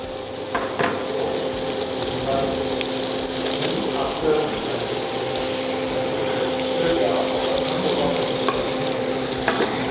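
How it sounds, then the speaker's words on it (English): A hamburger patty sizzles steadily in a frying pan, a continuous close hiss and crackle with a faint hum beneath and occasional scraping as it is handled. "One way is to pan fry it as it is"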